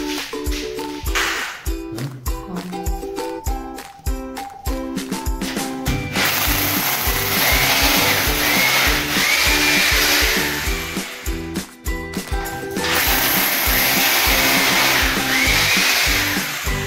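An electric drill bores during plumbing fitting work, its loud, steady whine running in long sustained stretches with brief pauses and shifts in pitch.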